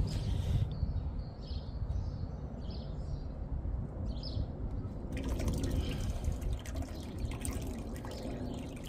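A slow, weak toilet flush at a property with a blocked drain, rushing and gurgling water continuous throughout, with a brighter surge of water partway through and no speech.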